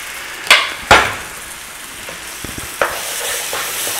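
Onion paste hits a hot pan for chicken jalfrezi with a loud, sharp sizzle, then settles into a softer frying hiss broken by a few clacks of a utensil against the pan.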